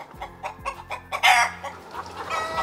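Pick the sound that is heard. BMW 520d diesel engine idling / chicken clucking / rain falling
chicken clucking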